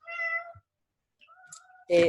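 A house cat meows in short tonal calls during an online class, with two separate meows close by and a louder burst at the end, no speech heard.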